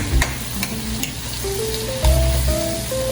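Spicy buttered pork adobo frying in a pan with a steady oily sizzle, a few sharp ticks and pops over it and a brief louder burst of spitting partway through.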